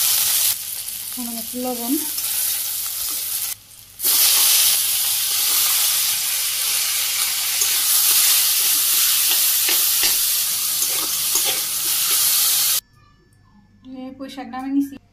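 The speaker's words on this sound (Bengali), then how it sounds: "কড়াই গরম হয়ে গেছে, তেল দিয়ে দিলাম, পেঁয়াজ কুচি, কাঁচামরিচ" Chopped onions and green chillies hit hot oil in a wok in a Bangladeshi village kitchen, giving a loud, steady sizzle that runs most of the way, with someone talking before and after it.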